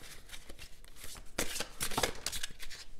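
Tarot cards are drawn and handled close by, with quick papery slides, flicks and shuffling rustles in short bursts and no talk over them.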